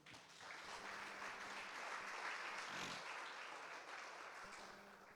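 A church congregation breaks into sustained applause during a sermon, a steady wash of clapping that holds for several seconds at moderate distance, with no voices over it.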